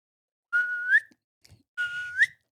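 A person whistles in imitation of a wild turkey's odd whippoorwill-like call: two clear, close sustained whistles, each rising at the end, separated by a short pause with faint mouth noise.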